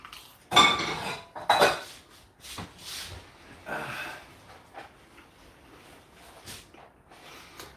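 Pots and pans clatter and scrape with cutlery during stir frying of leftover rice with an egg, two loud clanks up front followed by softer rattles and knocks, close by with no talk.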